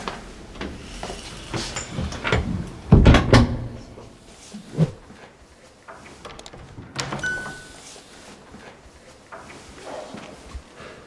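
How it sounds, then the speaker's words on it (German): A door is pushed shut indoors during a counselling visit, a loud thud with rattling around the middle, followed by quieter shuffling, handling noises and a brief voice. "Gut, dann mache ich mal die Türe zu."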